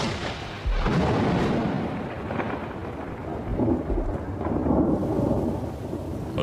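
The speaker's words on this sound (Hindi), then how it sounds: "आसमान में काले बादल दिखाई देने लगे हैं। बरसात आ चुकी है।" Thunderstorm in Kakadu, northern Australia, with heavy rain hissing steadily and deep rolling thunder rumbling through, swelling louder midway; no voices.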